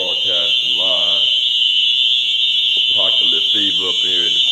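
A loud, steady alarm rings without pause inside a courthouse, running under intermittent talk throughout.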